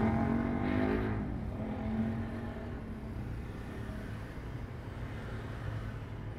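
A manual car creeping along a narrow, congested market road in Cicurug, its engine rising briefly as gas is applied, then settling into a steady low hum with faint passing traffic around it.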